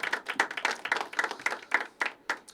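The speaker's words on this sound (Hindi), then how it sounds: "जोरदार तालियां बजनी चाहिए अंजलि के लिए" Audience clapping at a poetry open mic at The Habitat, a sparse, uneven patter of hand claps from a modest crowd, moderately close, rising and falling over a few seconds.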